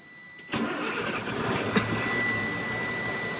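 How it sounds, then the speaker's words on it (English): Diesel engine of a truck at a trucking school cranking and catching at about half a second, then settling into a steady, fairly loud idle with no talk. "I'm going to turn my engine on"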